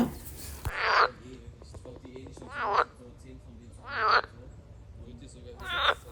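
Four loud, rasping frog croaks repeat at regular intervals nearby at a pond in Germany, with a fainter pulsing call from another frog farther away between them.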